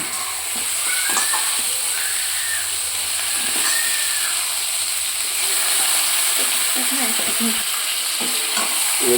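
Chicken pieces sizzle and hiss steadily in a hot pan as they are stirred, with scraping spoon strokes breaking through the constant frying noise, close and fairly loud throughout.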